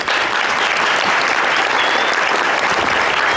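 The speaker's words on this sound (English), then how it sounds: "we'll give them a nice round of applause." Steady, dense applause from a large crowd, continuous and loud throughout with no pauses.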